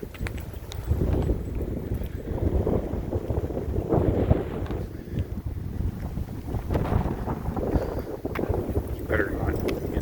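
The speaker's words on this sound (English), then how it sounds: "Nice windy day. It's so windy." Strong wind buffets the microphone in heavy, uneven gusts on an outdoor river park trail, a loud rumbling roar that keeps going throughout, with no clear voices.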